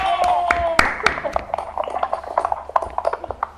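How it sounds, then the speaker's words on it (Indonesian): Scattered claps from participants in an online school class come through unevenly over connected microphones, with a few voices calling out between them. "Silakan unmute, tepuk tangan ya"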